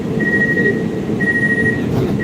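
Subway metro train riding through a tunnel, a steady loud rumble with a thin sustained wheel squeal running across most of the stretch, no voices.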